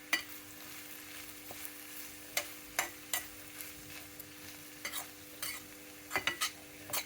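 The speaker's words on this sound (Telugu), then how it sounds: "కొత్తిమీర అన్నీ వేసుకొని మొత్తం కలుపుకోవాలండి" Carrot fry with coriander leaves being stirred in a pan, a run of distinct spatula scrapes and taps in an irregular rhythm over a low, steady sizzle, close by with no voices.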